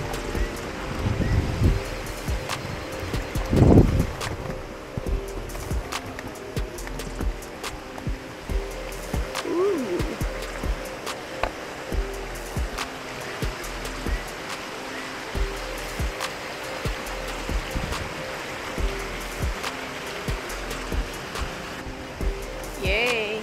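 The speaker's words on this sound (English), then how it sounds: "Yay, a little stream out here." A small stream in a park flows with a steady, close rush of water over rocks, accompanied by scattered footsteps and brief movement noises.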